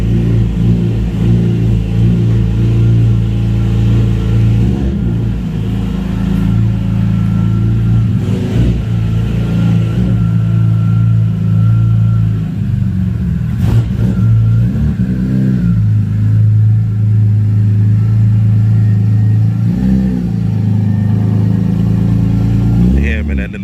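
A BMW M3 engine runs with its exhaust removed, a deep, loud idle rumble with occasional rising revs across the clip, while people talk over it.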